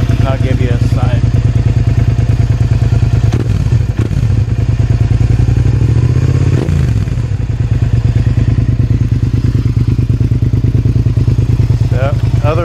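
A 2005 Suzuki SV650S motorcycle engine running nearby, loud and steady with a pulsing beat and a few revs rising and falling, while someone talks over it.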